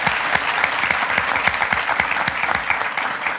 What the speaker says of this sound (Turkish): Biz sizi alkışlıyoruz.